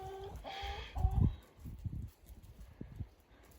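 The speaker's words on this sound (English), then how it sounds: "It's quite an adventure playground for chooks here." Hens cluck and squawk close by in a backyard with vegetable beds, giving a loud burst of calls early and then softer scattered clucks and shuffling movement.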